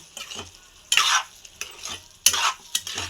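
A mushroom and tomato curry is stirred in a pan: four or five scraping sweeps of a spoon, close and fairly loud, over a soft sizzle, with no voices.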